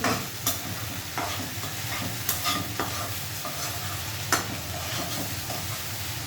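Okra being stirred as it fries in a pan, a constant loud sizzle with repeated scraping strokes of a spatula at uneven intervals, heard close up with no talk.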